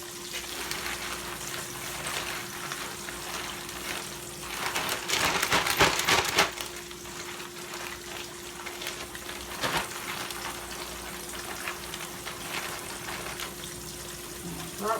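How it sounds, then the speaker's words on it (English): Fish for a po' boy sandwich fries in hot oil, giving a steady crackling sizzle that swells into a louder burst midway before settling back to a constant hiss. "Alright, let that fry."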